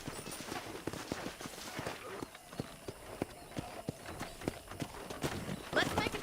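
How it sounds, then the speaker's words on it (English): Horse hooves clip-clop in Red Dead Redemption as a rider sets off on a ranch, quick rhythmic hoofbeats close by, with voices talking over them throughout. "let's see if you can still ride a horse"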